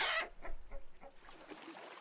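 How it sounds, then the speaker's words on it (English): A rooster in the survival game Vintage Story gives a few soft, faint clucks in quick succession after a brief burst of noise. "No, rooster, don't stand here."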